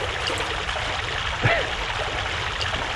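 Water in Prince of Persia: The Sands of Time rushes and splashes in a steady, fairly loud wash, with a small splash near the middle.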